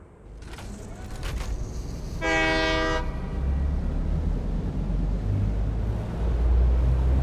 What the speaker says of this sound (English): Go and get the train and bring it along.